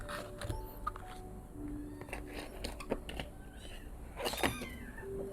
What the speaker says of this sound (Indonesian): kalau kamu dengar suara anak kucing, itu kucingku ya